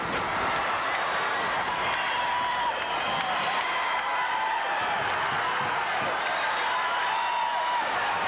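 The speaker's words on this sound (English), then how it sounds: "this capacity crowd is on its feet" A capacity wrestling arena crowd on its feet, a dense continuous roar of cheering and shouting that holds steady at a distance throughout, with no clear breaks.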